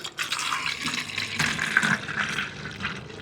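A homemade coconut-based plant tonic is poured into a sprayer, giving a steady close splashing and gurgling of liquid filling a container, with a brief surge in the middle and no talk.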